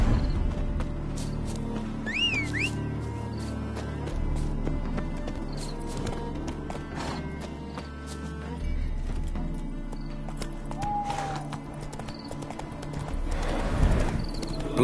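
Steady clip-clop of horse hooves plodding along at an even pace in the video game Witcher 3, with a brief whinny and a rumbling ambient backdrop.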